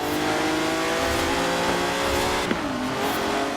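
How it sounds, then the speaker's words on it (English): Hot Wheels Twin Mill engine in Forza Horizon 4 screaming at high revs, with a sustained loud whine that briefly dips and settles lower as a gear changes, no talk over it. "slow gear changes, but never mind."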